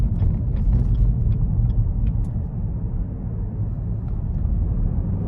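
A 2024 Chevy Camaro ZL1 Convertible under hard throttle, with a deep, loud, continuous engine rumble and road roar heard from the cabin, steady throughout with no talking.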